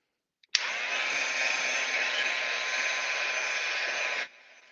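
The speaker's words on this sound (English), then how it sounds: "so a little bit of heat gun." Heat gun drying a gel print on a Gelprint masterboard, a steady close loud blowing roar that switches on abruptly, runs about four seconds alone, and cuts off to a faint tail.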